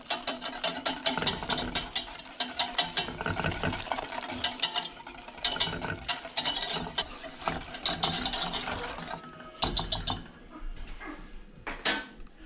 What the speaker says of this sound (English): We're gonna add this mixture into the sauce and whisk it.